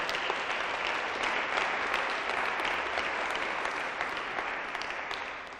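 Church congregation applauding during a Sunday morning Bible service, a dense sustained wash of clapping from many hands that fades slightly toward the end, with no speech.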